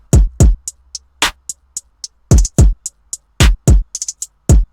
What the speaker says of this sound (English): And I have this clap snare type thing as well.